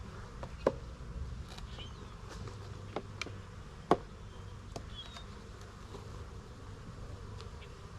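Honeybees buzz in a low, steady drone across hive frames crowded with bees during a brood check, with a few sharp clicks and knocks of the frames standing out above the hum.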